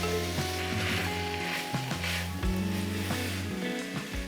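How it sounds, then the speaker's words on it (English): Cooked meat for chili ladled into a pot of sizzling onions, a continuous soft sizzle with light wet shifts and clatter, close and moderately quiet, with a low steady hum beneath. "we're going to ladle in our cooked meat here"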